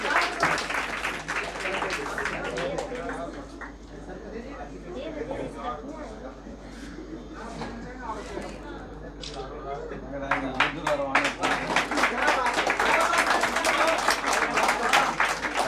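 A speaker addresses the audience at a coaching academy farewell ceremony, then an audience breaks into crisp, rapid clapping that grows louder and fills the final few seconds.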